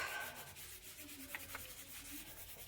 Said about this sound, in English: I'll just give that a rub.